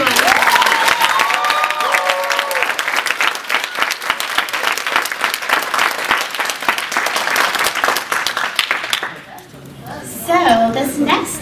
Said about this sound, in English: So how about another round of applause for everyone?